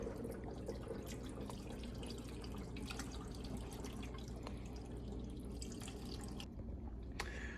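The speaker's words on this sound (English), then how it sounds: "Hot water goes directly in there." Hot water poured into a Hoshizaki ice machine bin for cleaning, a steady close splashing and trickling stream with scattered drips, continuous throughout with no talking.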